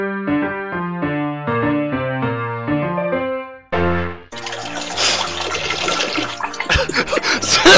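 A toilet flush in The Sims 3 plays after a run of melodic game tones, a loud rushing swirl of water that builds and churns for several seconds with a brief gurgling surge at the end.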